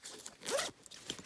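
A backpack zipper is pulled open in one quick, close rasping stroke, followed by a few faint clicks of the pull.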